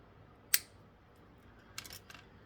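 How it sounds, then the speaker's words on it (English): Hobby snips cutting parts of a 1/25 scale MPC 1969 Dodge Charger R/T plastic model kit off the sprue: one sharp, close snip, followed by a couple of fainter clicks and handling noises in a quiet room. "Just gonna continue to snip off stuff here."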